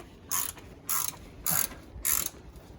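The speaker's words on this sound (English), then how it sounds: "them Icon ratchet wrenches sure are coming in handy for this hose reel" An Icon ratchet wrench clicks in four short bursts of rapid ratcheting, evenly spaced and close up, while a hose reel is mounted in a garage.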